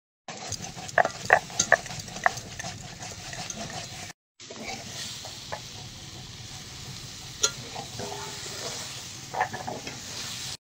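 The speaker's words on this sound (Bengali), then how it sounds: "একসাথে ভালো করে কষিয়ে নেব" Elephant foot yam and prawn curry is sautéed in a pan with little oil and spice, giving a low sizzle under repeated spoon scrapes and clinks against the pan, with a short break partway through.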